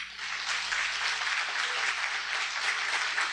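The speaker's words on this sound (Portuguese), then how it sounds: "Aplauda bem forte ao Senhor" Congregation applause fills a church service, a dense, steady wash of many hands clapping close and loud for the full stretch without pause.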